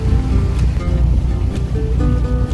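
Trawler idling on one engine through the Florida Intracoastal Waterway, a steady low engine drone with water washing along the hull, close and continuous.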